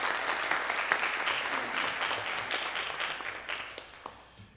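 Church congregation clapping during a Sunday service at a Korean Presbyterian church in Vancouver, a dense steady patter of many hands that gradually thins and fades toward the end.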